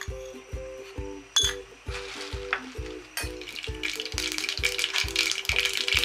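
Mustard seeds splutter and crackle in a hot oiled pan for a tempering, a steady patter of sharp pops that thickens into dense sizzling, with no talking.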